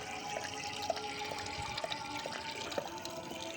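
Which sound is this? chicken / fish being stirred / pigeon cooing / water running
water running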